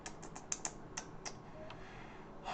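Computer keyboard typing: a handful of quick, light key clicks spaced irregularly, fairly faint against a quiet room hum, no voices.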